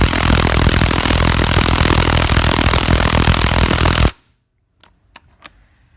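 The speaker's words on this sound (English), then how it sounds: "we're going to torque on for a count of 5 and then check the torque." Cordless impact wrench powered by an aftermarket China-made 10-cell battery, hammering continuously and loudly for about four seconds, then stopping abruptly, followed by a few faint clicks.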